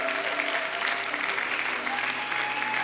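Church congregation applauding to praise the word of God, steady clapping from many hands that holds the whole stretch, with faint voices mixed in.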